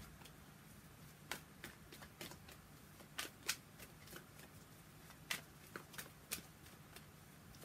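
Tarot cards are shuffled and drawn, giving soft, faint crisp snaps and flicks at an uneven pace against a quiet low hum in a room.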